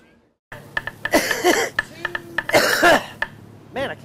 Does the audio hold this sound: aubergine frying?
no